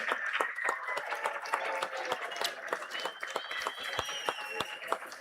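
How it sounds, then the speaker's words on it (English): Graduation audience applauding for a teacher, a dense patter of clapping hands that stays steady and moderately loud from start to finish. "let us clap it up to Mr. Samuels, who had a hand"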